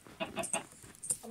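A few short clucks from chickens in a video game in quick succession, moderately loud, followed by a higher squawk near the end.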